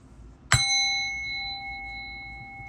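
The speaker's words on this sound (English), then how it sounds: "So watch your ears. Here comes the bell." A single bell strike rings out clearly, its bright tone sustaining and slowly fading over a couple of seconds against a quiet background.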